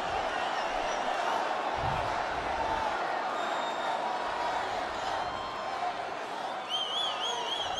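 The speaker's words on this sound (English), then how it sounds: "I didn't realize we had this long of an applause break" A live audience keeps up a long applause break, a steady wash of clapping and cheering with scattered whoops, and a few voices murmur underneath.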